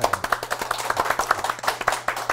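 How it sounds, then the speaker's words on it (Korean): A small studio audience claps to welcome a guest on a broadcast talk program, giving quick, crisp, closely spaced hand claps at a steady pace with no talking. "자, 그러면 일단 박수로 모시겠습니다"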